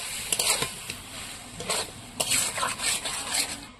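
Boiled potatoes are stirred into a frying onion-tomato masala, with faint irregular scrapes and clinks of a spoon against the pan over a soft sizzle, quiet and close.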